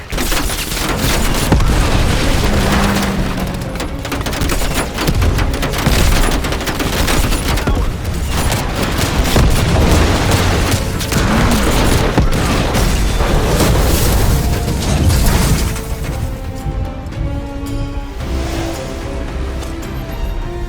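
Dense, loud gunfire and booming explosions from the PS5 game Call of Duty Cold War roar almost nonstop, with overlapping bursts and blasts that ease slightly near the end.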